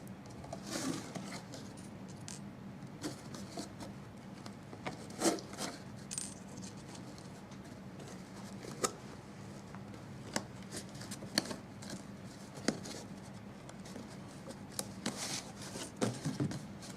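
Small metal brads are pushed through holes in a box for a homemade rubber band banjo, making faint close scratchy rubbing and light clicks scattered over a quiet stretch without talk.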